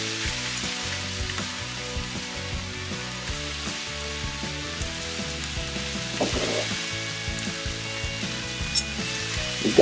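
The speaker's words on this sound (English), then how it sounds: "we're just going to brown this meat up" Ground beef seasoned with freshly cracked black pepper browning in a pan, a steady sizzle and crackle running throughout, with occasional louder spits and pops near the end.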